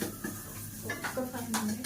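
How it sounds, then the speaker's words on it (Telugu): A spoon scrapes and clinks against a bowl while stirring a pepper powder and egg mixture for a chapati egg roll, giving several light, close, irregular taps and scrapes with no talk. "ఓన్లీ పెప్పర్ పౌడర్ వేస్తున్నాను కొంచెం. దీన్ని ఒకసారి బాగా మిక్స్ చేసుకొని"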